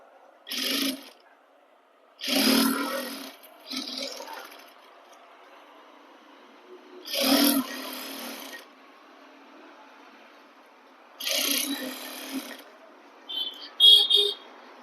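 Sewing machine stitching a pant side seam: several short bursts of rapid mechanical clattering, each a second or so long, separated by quiet pauses, fairly close.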